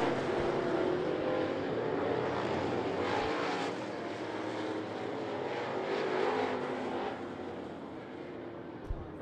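Crate late model race cars racing at I-75 Raceway, a continuous loud engine roar from several cars that swells and fades as the pack passes, heard at a distance with no talk.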